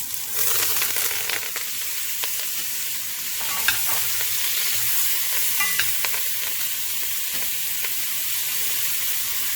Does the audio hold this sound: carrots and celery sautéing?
yes